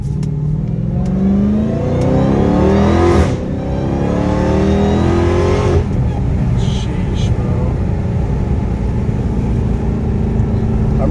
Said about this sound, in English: one more POV pull with the stock air intake on the same road.